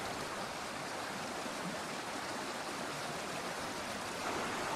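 The Vasaristi waterfall cascade on the Vasaristi stream in Lahemaa National Park, Estonia, sends out an even, moderately quiet rush of tumbling water that holds steady throughout, with no voices.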